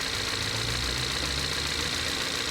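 A used car's engine idling steadily, a continuous low rumble with a faint tick and hiss, unchanging and fairly quiet throughout, no voices.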